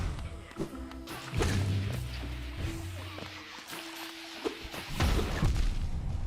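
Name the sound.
explosion in the video game Hollow Knight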